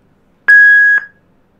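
A single loud electronic beep from a Bluetooth device confirming pairing, a steady pure tone lasting about half a second, alone in silence.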